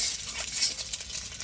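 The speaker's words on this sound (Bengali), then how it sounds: "সেদ্ধ করে রাখা খোসা ছাড়িয়ে রাখা ডিমটা একটু হলুদ দিয়ে ভেজে নিব।" Peeled boiled eggs fry with turmeric in a hot pan, giving a steady close sizzle with light stirring scrapes throughout and no talking.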